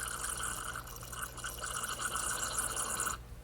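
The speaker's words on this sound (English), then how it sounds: "Bubbling away there." Liquid bubbling on a Case 446 garden tractor, a soft continuous fizzing and gurgling over a low steady hum, close and quiet, cutting off abruptly near the end.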